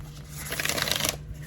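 A tarot card deck is shuffled by hand, giving a brief, close, rapid riffling flutter that rises and fades within about a second and a half.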